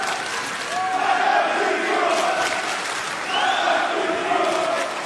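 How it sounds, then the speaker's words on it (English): Crowd at a Code of Honor wrestling event roars and cheers for a wrestler's entrance, a dense, loud sustained swell of voices with rising shouts and whistles throughout. "The crowd coming alive for Black Machismo"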